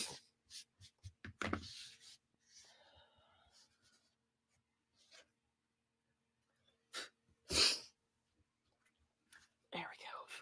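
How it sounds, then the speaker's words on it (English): A person with allergies gives a single sharp, close sneeze amid quiet breathy whispering and soft rustling, with near silence around it. "Oh, I'm going to sneeze again."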